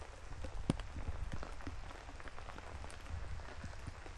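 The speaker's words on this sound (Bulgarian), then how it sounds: "Как всеки път вали, наистина много хубаво заваля." Rain falls steadily at a campsite, a dense, even patter with scattered louder drops hitting nearby surfaces, with no talking.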